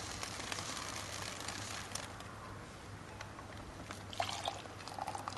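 Hot boiled water pours out of a pot made of aluminum foil, a soft steady splashing trickle with a few louder spatters near the end, close and quiet.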